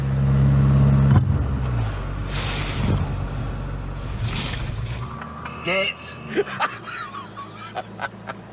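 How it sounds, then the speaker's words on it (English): A car braking hard just ahead of another car, with a steady engine and road drone broken by two loud rushing bursts, then a quieter stretch with scattered clunks and squeaks. "Ready, steady, and brake testing James May."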